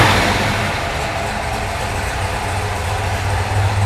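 A 1966 Chevrolet Impala factory drag racer's engine runs steadily up close, a deep rumbling idle that holds fairly even throughout with slight swells, no voices over it.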